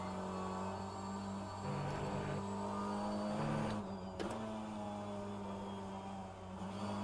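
An LMP2 prototype race car engine in rFactor 2 drones steadily and loud throughout, a constant rumbling tone with small shifts in pitch and a brief dip near the end, with no voices over it.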